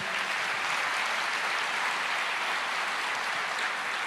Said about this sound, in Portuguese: Você pode aplaudir ao Senhor só por esse texto?